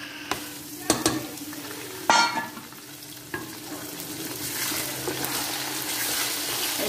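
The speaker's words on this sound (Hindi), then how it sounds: "देखिए, हमारे प्याज हो गए, अब इसमें चिकन ऐड कर रहे हैं।" Chicken pieces going into a pan of fried onions and oil, with a few sharp clatters as they drop in, then a rising, continuous frying hiss and occasional stirring.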